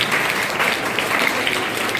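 An audience claps loudly for children at a traditional cultural school program, a continuous dense round of applause with faint voices underneath.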